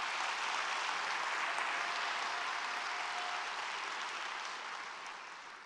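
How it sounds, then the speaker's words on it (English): A large audience at the 2016 Long Beach State of the City event gives a big round of applause, a thick, even wash of clapping that holds steady and then gradually tapers off near the end. "A big round of applause for everyone involved in that project"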